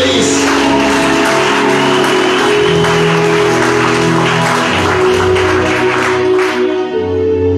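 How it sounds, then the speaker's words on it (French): A church congregation applauds loudly and steadily throughout, with sustained music playing beneath the clapping and a few scattered shouts. "acclamez très fort"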